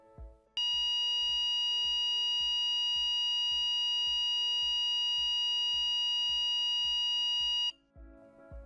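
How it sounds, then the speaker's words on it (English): Cerberus FIT FC360 fire alarm sounder giving its evacuation tone: a sustained loud, steady electronic tone lasting about seven seconds, with rhythmic low thuds pulsing underneath throughout. "The sequence starts with an evacuation tone."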